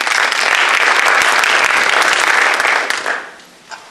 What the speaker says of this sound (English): you can hold your applause